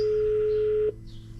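Steady dial tone from a Kingchange Android car stereo fitted in a Nissan Qashqai J11, a single sustained tone that cuts off abruptly just before the end, leaving quiet cabin hiss.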